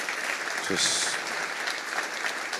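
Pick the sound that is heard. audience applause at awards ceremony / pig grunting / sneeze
audience applause at awards ceremony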